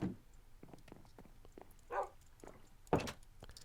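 A Minecraft dog gives soft, faint whimpers and short yips, scattered irregularly over a quiet background, with two slightly louder barks near the middle and end.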